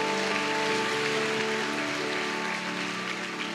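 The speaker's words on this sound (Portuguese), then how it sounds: "Dê um aplauso ao Senhor" Steady applause from a church congregation at a Portuguese-language sermon, dense and continuous throughout, with a sustained tone and music underneath.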